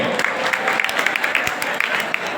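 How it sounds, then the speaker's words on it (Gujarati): An audience applauds at a rural community event, a dense, steady burst of many hands clapping, fairly loud and sustained throughout. "હજી તાળીઓના ગડગડાટથી વધાવો."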